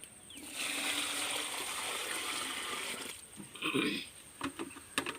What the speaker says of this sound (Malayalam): ഈ കഞ്ഞിവെള്ളം ഈ ചാരത്തിലോട്ട് ഒഴിച്ചു കൊടുക്കുകയാണ്